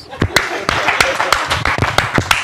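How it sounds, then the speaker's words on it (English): Audience applause for a contestant at a Nigerian game-show caretaker task: sharp, irregular claps close by in a short ragged burst, with a voice briefly audible. "Round of applause for him, ladies and gentlemen."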